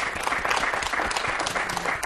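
Studio audience applause on a weekend television talk show, a continuous wash of many clapping hands, fairly loud and even, with no talking over it.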